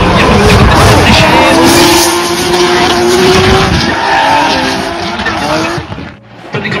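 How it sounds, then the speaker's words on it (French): Drift cars at the French drift championship, including a Nissan, roaring loudly with engine and tire noise throughout, fading slightly near the end, under excited commentary. "Damien Fréchet qui essaye de mettre de la fumée sur son suiveur"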